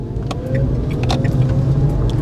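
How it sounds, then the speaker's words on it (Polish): Dacia Spring electric car pulling away from a standstill at full throttle, a steady low rumble with a faint rising whine throughout, recorded close up from inside the car. "wciskamy procedura startu, czyli puszczamy hamulec, auto stoi, dodajemy gazu. To jest gaz do dechy"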